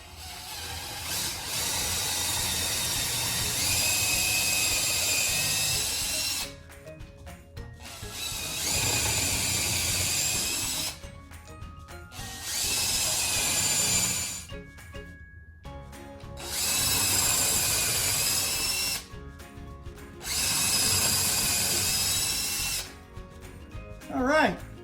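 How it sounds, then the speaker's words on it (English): A power drill bores holes into wood through a drilling jig while building a sofa table, loud sustained whining bursts of several seconds each, separated by short pauses, repeated four or five times close to the microphone. "I'm going to put this jig on here and we're going to drill some holes."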